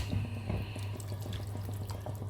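A kitchen tap runs steadily while veal is cooked Mediterranean style, with a continuous rushing flow, scattered drips and splashes, and a low hum underneath.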